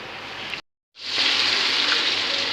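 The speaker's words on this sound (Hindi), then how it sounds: "अब हम इसका पानी ड्रेन आउट कर लेते हैं" Water being poured off boiled rice in a kitchen while making chicken biryani: a steady, close rush of splashing water that starts abruptly after a brief silence and continues evenly.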